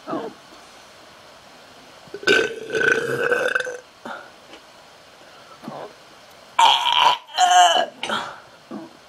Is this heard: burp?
yes